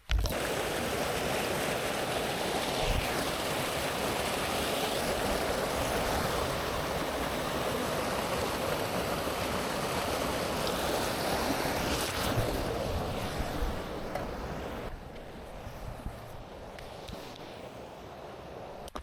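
River water rushes at a stream crossing in the Scottish Highlands, a steady broadband flow that holds constant for most of the stretch and then thins and softens near the end, with some wind mixed in.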